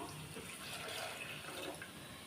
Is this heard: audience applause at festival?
no